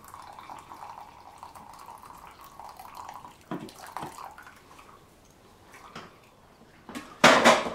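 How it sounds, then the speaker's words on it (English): Juice from a can of beans poured off into a kitchen sink, a steady trickle under faint room noise with a few clanks and knocks, ending in a louder splash. "And then what I'm going to do is I'm going to pour the juice off."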